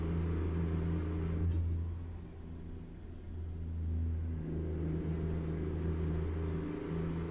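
American Truck Simulator truck with a straight-pipe Detroit engine, a steady loud low exhaust drone with a slight swell midway, holding continuously throughout without talk.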